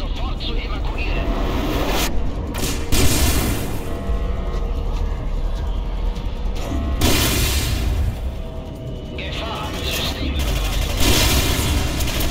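Heavy rumbling explosions and booming blasts with bursts of gunfire in the video game Singularity as a facility blows up, loud and continuous, swelling in several waves.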